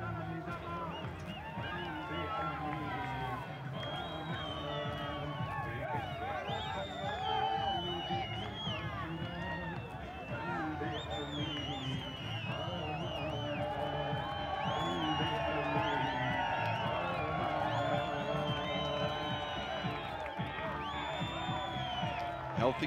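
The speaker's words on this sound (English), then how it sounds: "Healthy crowd is coming here to watch this must-win encounter for both sides" Crowd at a Shpageeza cricket match in Afghanistan, Kabul Eagles against Band Amir Dragons, a steady roar of cheering, whoops and babble, with a commentator talking over it throughout.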